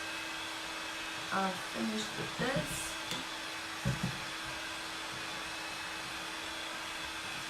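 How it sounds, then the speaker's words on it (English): A steady rushing hair dryer hum runs throughout, with a person briefly speaking over it early on. "if you've got a heat gun or a hair dryer, it actually helps a lot to get it dry much quicker"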